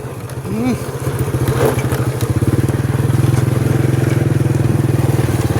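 A loud vehicle engine rumbles steadily close by at a roadside in southern Laos, its low pulsing drone holding throughout with rough, throbbing texture.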